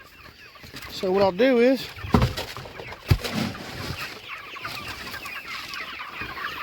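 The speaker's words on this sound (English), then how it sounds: "Look at all them birds." Meat chickens cluck around a feeder, a busy flock noise with one louder harmonic call near the start and scattered clucks throughout, while someone talks over them.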